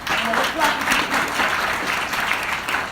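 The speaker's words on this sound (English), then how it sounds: "I want you all right now to give a hand clap for the ones that already gave you truth" A church congregation claps together in a steady, dense wash of applause that holds loud and even throughout, with a cheer rising briefly over it.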